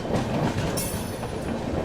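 Northeast Express train rolling along rails on the Mirzapur line toward Patna, a steady close rumble of wheels with faint clatter and a brief high squeal partway through.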